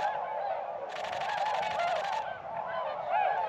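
A flock of swans in Eastern North Carolina honking and calling together, a dense overlapping chorus of nearby birds that swells briefly louder mid-clip.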